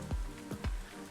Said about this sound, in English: Don't come to Putrajaya in a rainstorm.